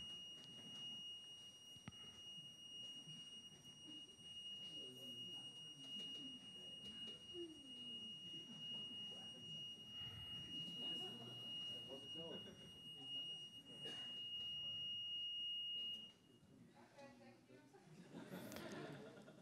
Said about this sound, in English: don't trigger the alarm while I'm speaking.